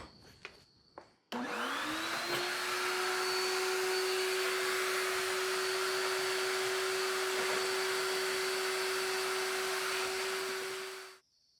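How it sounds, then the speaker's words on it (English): A vacuum cleaner sucks up debris from under the seat of a Nissan 240SX, switching on abruptly after a moment of quiet, holding a loud, steady whine for about ten seconds, then spinning down. "give us just a second to vacuum up this crud that was underneath the seat"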